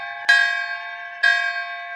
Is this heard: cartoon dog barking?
no